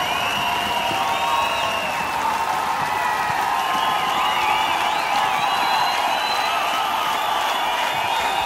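A large crowd applauds and cheers at a live outdoor pop concert at the Hungarian Days festival in Cluj in 2019. The clapping is loud and continuous, with whoops and whistles rising above it.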